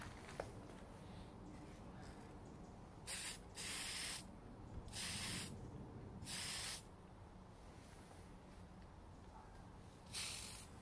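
Bright silver spray paint is applied from an aerosol can to a Tamiya Mini Cooper racing model body in four or five short hissing bursts, close by against a faint background.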